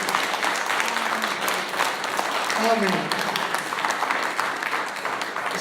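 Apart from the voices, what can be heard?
church congregation clapping hands for the King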